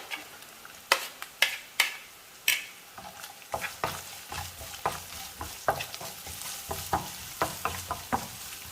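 A half onion, sliced lengthwise, fries in a pan with crushed ginger while a utensil stirs it: a steady soft sizzle punctuated by repeated sharp metallic clinks and scrapes against the pan.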